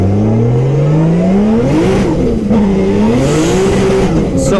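A 700 horsepower Nissan 350Z accelerates hard on a race track, its engine note climbing loudly through the revs, dipping at a gear change, then wailing again close to the microphone.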